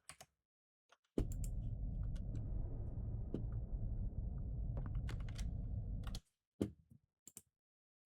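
A computer keyboard being typed on steadily for about five seconds, a dense run of close, fairly loud key clatter standing alone, with a few isolated clicks before and after.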